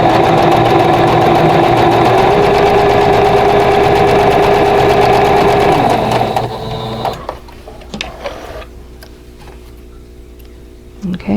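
A sewing machine stitches the corners of a vintage quilt block in a fast, loud mechanical chatter for about six seconds, then stops, leaving quiet clicks and handling sounds.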